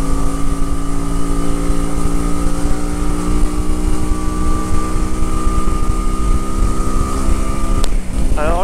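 Honda Shadow 125 motorcycle cruising on a rough, potholed road, its engine a loud, steady drone with sustained wind noise throughout and a brief shift in pitch near the end.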